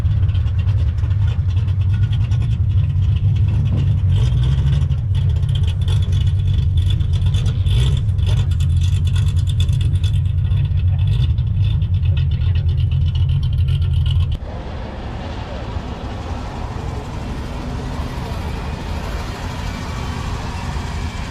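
A 1972 Buick Riviera engine runs loud and steady, a deep continuous rumble close by, then the tone shifts and drops slightly toward the end.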